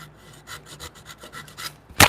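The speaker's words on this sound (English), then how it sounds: "I'm also sawing the piece of wood at an odd angle here too" Rhythmic back-and-forth strokes of a hand saw cutting wood at an odd angle in a woodshop, about a dozen rasping passes, ending in a louder crack as the piece breaks.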